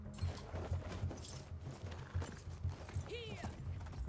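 Horse hooves in Battlefield 1 thud in a steady trotting rhythm, close and fairly loud, with a brief whinny-like tonal call near the end over game ambience.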